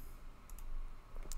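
A computer mouse gives a few faint, crisp right-click taps during desktop work, close and quiet over a low room hiss.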